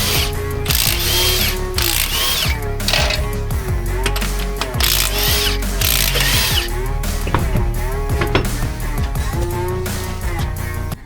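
A hub cap comes off the front dually wheel of a Ford F-350, with close metallic clicks, ratcheting and clanks in a busy, loud stretch of mechanical noise.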